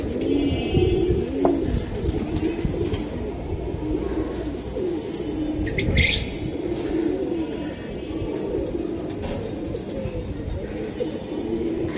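Pigeons at a Bangladeshi pigeon keeper's loft coo in low, soft, repeated phrases through the whole stretch, close and steady, with a voice talking over them and a brief higher chirp midway.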